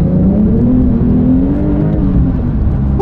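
Porsche 911 Sport Classic, a manual rear-drive car with turbo power, in second gear with sport mode on and the exhaust flap open, accelerating hard: a loud, close engine note rising steadily in pitch for three seconds without speech.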